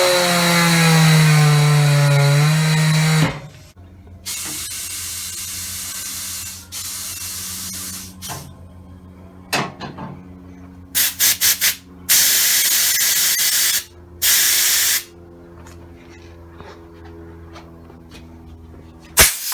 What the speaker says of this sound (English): So now we can move on to the next step and putting the tire back on and inflating